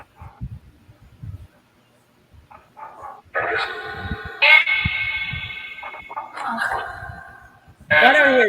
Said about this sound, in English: That's my dog started barking